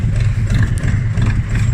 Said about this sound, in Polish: Na razie chodzi na wolnych obrotach